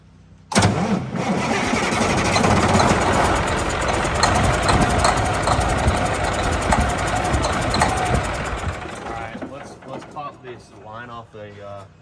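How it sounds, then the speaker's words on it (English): A junkyard truck engine cranks and catches abruptly, then runs at a loud, steady idle for several seconds before fading, with voices talking over the end. "see if it'll start."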